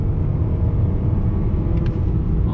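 A 2020 Mazda CX-30 with the 2.5 engine and front-wheel drive pulls under throttle, heard from inside as a steady deep rumble and engine drone, fairly loud and constant.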